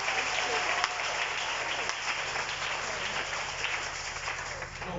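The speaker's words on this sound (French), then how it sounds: "Est-ce qu'on peut acclamer Jésus?" A congregation at a Friday prayer night breaks into steady, crowded applause, a continuous wash of many hands clapping with scattered voices mixed in, heard from a moderate distance.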